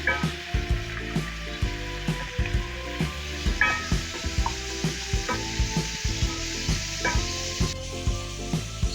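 Squid and shrimp sizzle loudly in a hot pan while being stir-fried for seafood pancit, with rhythmic scraping stirs and clacks of the utensil against the pan repeating throughout.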